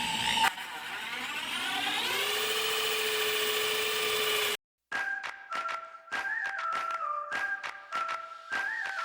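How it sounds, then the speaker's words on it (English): A large hole saw on a drill cutting into MDF: a loud, steady motor whine that climbs in pitch for several seconds, stops abruptly, then gives way to a series of knocks and taps. "Be real careful with a hole saw this big."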